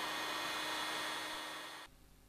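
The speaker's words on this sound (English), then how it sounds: "When you're using it, you can aim the gun and melt wax with it. You can blow the wax around." A hot air gun for encaustic wax painting blows a steady, loud broadband hiss of air that holds for almost two seconds and then cuts off abruptly, leaving quiet room tone.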